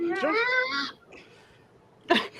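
A cat meows in a long, wavering call lasting nearly a second, loud and close, followed by quieter rustling and a short burst of noise near the end.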